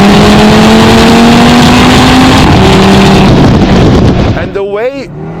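A 420-horsepower Audi RS3 engine revs hard and accelerates, a loud, close, aggressive roar with rising tones before a sharp burbling shift and drop-off at the end.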